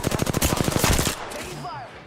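Rapid automatic gunfire rattles in a fast, even burst of close shots in Apex Legends, then stops, leaving faint game effects and background tones.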